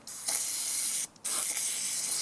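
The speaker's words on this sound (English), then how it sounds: "spray that down and see if we can free all that up" PB Blaster penetrating oil sprayed from an aerosol can onto a rusted, frozen throttle linkage on a pressure washer engine, heard as two close, loud continuous hissing bursts separated by a short pause.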